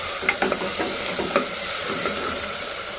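Green pea rice being stirred in a frying pan, with a spoon scraping and clattering through the grains over a steady sizzle, close and fairly loud, with no voices.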